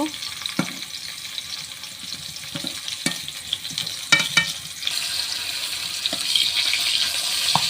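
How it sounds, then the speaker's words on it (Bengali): Teasel gourd slices fry in oil in a wok with a steady sizzle, broken by sharp clinks and scrapes of a utensil turning them; close, continuous, with no talk. "একে একে সব কাঁকরোলগুলো উল্টে বেজে নিব"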